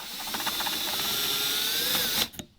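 A power drill whirs steadily at close range as it bores a hole in a Dodge Viper ACR's bodywork, then cuts off abruptly near the end.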